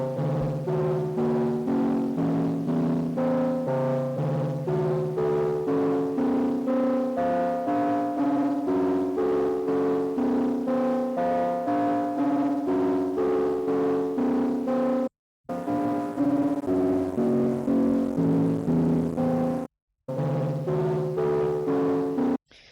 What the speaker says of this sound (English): It is very similar to another FM demodulated signal.